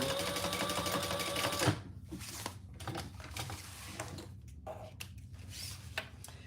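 Sewing machine stitching a laptop bag, a rapid close mechanical whir for nearly two seconds before it stops, followed by quieter handling clicks and rustles of fabric.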